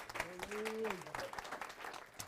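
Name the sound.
church congregation applauding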